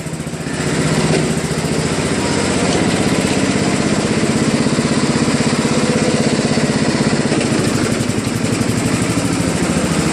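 A Craftsman LTV 10 Varidrive lawn tractor, a scrap-yard find, runs with a steady, loud small-engine drone close by, holding an even chugging rhythm throughout with no talk over it.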